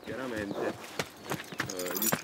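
Hooves of a Murgese horse clip-clop in an uneven rhythm along with other movement sounds, while someone speaks steadily over them.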